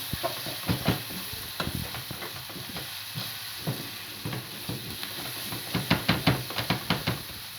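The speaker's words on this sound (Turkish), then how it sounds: "Şöyle güzelce karıştırıyorum. Biraz salçamız kavrulsun yağda." Tomato paste fries in hot oil with a steady sizzle while a spoon scrapes and knocks against the pot in quick irregular strokes, loud and close, the stirring speeding up toward the end.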